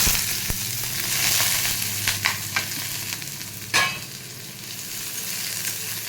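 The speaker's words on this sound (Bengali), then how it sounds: "এদিকে তেলটাও গরম হয়ে গেছে, এখন এর মধ্যে আমি একটু ঝিরিঝিরি করে পেঁয়াজ কেটে রাখছি। এই যে এটাকে এখন দিয়ে দেবো।" Thinly sliced onions frying in hot oil, a continuous bright sizzle with scraping stirs and a few sharp clacks of a spatula against the pan, close and fairly loud, no voices.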